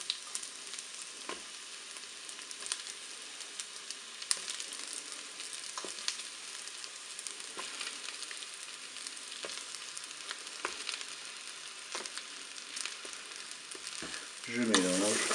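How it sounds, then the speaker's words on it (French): Chopped Paris mushrooms fry with grated garlic in a Cookeo pot for a potato gratin, a steady close sizzle with occasional crackles and stirring scrapes, and no one speaking. "Je vais ajouter les champignons Paris que j'ai coupés en morceaux."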